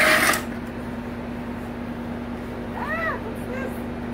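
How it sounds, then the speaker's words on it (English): A cat gives a couple of short, faint meows a little way off. They sit over a steady indoor hum, after a brief burst of noise at the start. "It's a cat?"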